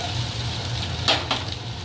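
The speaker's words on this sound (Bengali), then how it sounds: "এই কুমড়ো আর আলুকে কিন্তু একটু বেশ ভালো করে ভাজা করতে হবে" Pumpkin and potato pieces fry in a pan for a home-style Bengali fish curry, giving a steady soft sizzle with a couple of brief stirring scrapes partway through.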